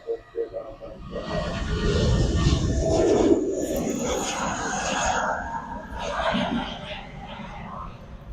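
A low, broad engine roar of an airplane overhead at the RDU airport observation park swells and then slowly fades, with quiet voices heard faintly underneath.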